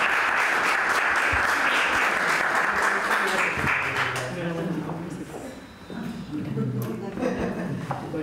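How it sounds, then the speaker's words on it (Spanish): An audience applauds at a short story and poetry award ceremony for Women's Day, a full burst of clapping that fades after a few seconds into murmuring voices. "Un fuerte aplauso para ella."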